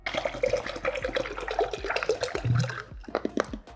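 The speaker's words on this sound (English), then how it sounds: "I'm going to go ahead and fill this with water" Water filling a 1 liter Katadyn BeFree filter bottle, a close, splashing and gurgling flow with uneven bursts that tapers off toward the end.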